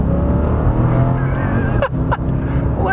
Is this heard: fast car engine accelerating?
yes